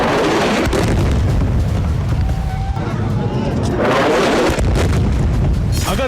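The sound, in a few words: explosions from Israeli forces' attack in Gaza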